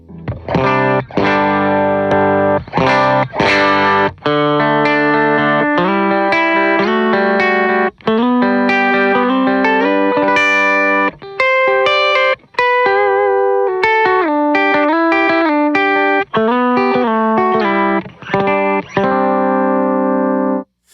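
Electric guitar played through a Tone Era Classic Warm Balance pedal into a first gain stage, with chords and single notes ringing out loud and sustained with slight overdrive and chorus-like shimmer, continuous throughout.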